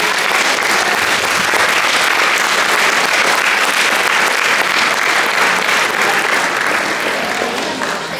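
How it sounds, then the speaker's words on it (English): Large audience at an India Day community gathering applauding the elders, a loud, continuous roar of many hands clapping, dense and even for several seconds. "I would like all of us to give a big applause for the"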